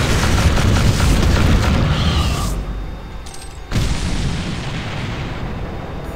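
Heavy weapon fire and booming explosions from the video game Doom, loud and continuous, with a dense roar that dips briefly before another blast restarts it.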